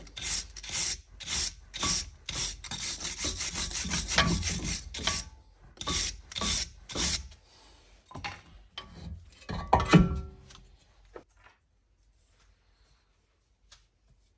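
BMW brake caliper piston and outer pad contact surface being scrubbed clean in a rapid, rhythmic rasping series up close, slowing and trailing off into quiet.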